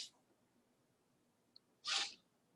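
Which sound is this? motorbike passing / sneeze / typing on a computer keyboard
sneeze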